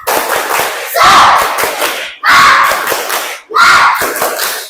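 A class claps and shouts together in rhythmic bursts during a classroom clapping chant, three loud surges of group clapping and cheering in quick succession.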